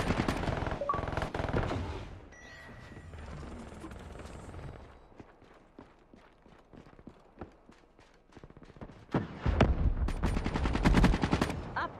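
Rapid bursts of automatic gunfire in the Black Ops 3 video game, loud at first, thinning to scattered shots in the middle, then surging again into heavy, close firing near the end.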